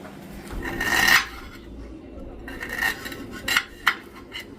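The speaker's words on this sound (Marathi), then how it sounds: "आलं पण चिरून घेते आता थोडंसं, आणि ते सुद्धा घालते त्याच्यामध्ये." Knife chopping fresh ginger on a board in a home kitchen, a few uneven scraping cuts and clinks, close and moderately loud, with a quiet gap in the middle.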